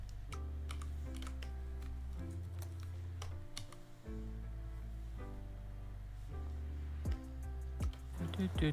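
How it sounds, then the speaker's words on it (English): Quick, irregular clicks of typing on a computer keyboard, sitting close but quiet beneath a steady low hum and background music. "let me see what you're typing up"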